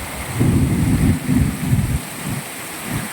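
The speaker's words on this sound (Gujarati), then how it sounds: "આમાં ફૂલ વરસાદ છે" Heavy monsoon rain pours down with low rolling rumbles of thunder swelling and fading, a dense continuous wash of sound with no voices.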